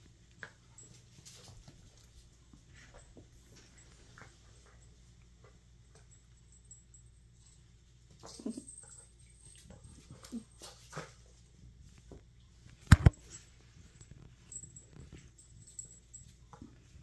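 Four-month-old puppies at play give off faint, scattered whimpers and small dog noises in a mostly quiet setting, with one sharp, louder sound near the end.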